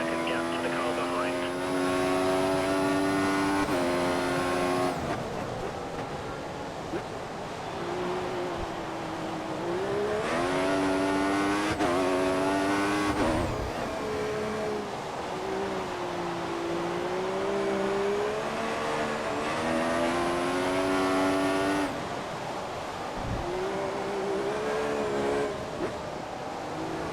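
Formula One race car engine in the F1 2014 video game during a cockpit lap of the Spanish circuit, loud and continuous, rising and falling in pitch through repeated upshifts and downshifts with brief lifts for braking.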